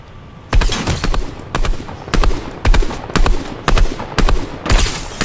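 Loud automatic gunfire from a video game rattles out in quick, close bursts, roughly eight short volleys in steady succession with brief gaps between them, and no voices are heard over the shooting.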